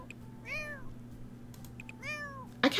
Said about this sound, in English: I feel like he does have a higher-pitched meow, but not like an overly clear one.